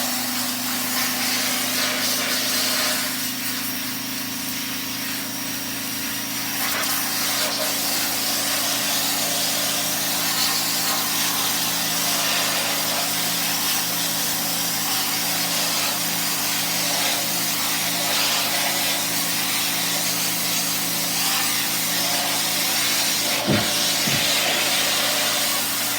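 A power washer blasts degreaser off a screen in a steady, loud, unbroken hiss of spray that runs on without pause, with faint tonal hum from the pump beneath.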